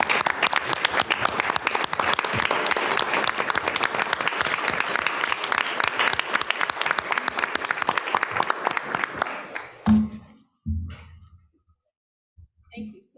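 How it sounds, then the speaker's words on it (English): A board meeting audience claps in sustained, dense applause for about ten seconds, then it tapers off abruptly into near silence with a few scattered sounds and faint voices. "Let's give him a round of applause."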